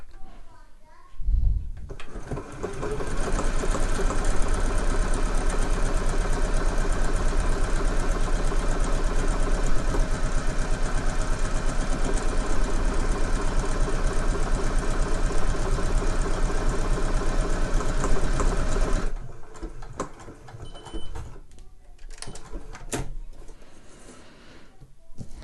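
A sewing machine runs steadily for about seventeen seconds while stitching buttonholes on Montauk trousers, a close, even mechanical whir that starts abruptly and cuts off, followed by quieter handling noise.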